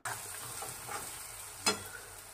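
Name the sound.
onions and peanuts frying in a kadhai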